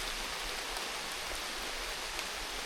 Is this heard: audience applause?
no